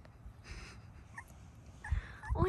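Pomsky puppies whimper and yip in short, soft bursts close by, a couple of louder squeaky cries near the end, with no talking.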